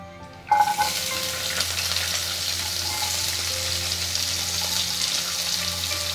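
Onions sizzling in hot oil with cumin and mustard seeds for an aloo kurma, a sharp burst of frying near the start settling into a steady, close crackling hiss with no voices.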